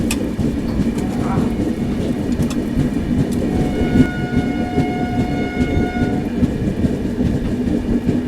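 A Vande Bharat express train rushes past a stopped train, giving a loud, continuous rumble with clattering wheels and a sustained horn tone partway through.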